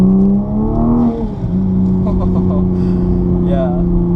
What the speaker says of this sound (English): Justin just gave it some throttle right there, and we didn't get all the cracks and burbles